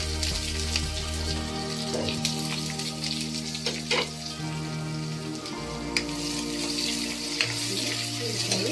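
Chopped onion drops into hot oil already seasoned with curry leaves while gongura dry prawns are being cooked, giving a continuous close crackling sizzle with scattered pops and stirring clinks, alongside a steady low hum from a kitchen fan or stove.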